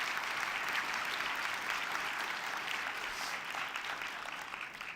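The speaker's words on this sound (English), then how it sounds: "Please give everyone who presented a big round of applause." A room full of people applauding presenters at an entrepreneurship event, with steady, dense clapping that continues without a break for the full length and fades only slightly toward the end.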